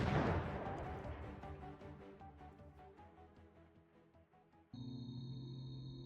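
Weapon fire in the strategy game Xenonauts: a loud opening burst that decays into a ringing, reverberant tail with rattling pulses, then a steady electronic hum takes over near the end; no talking.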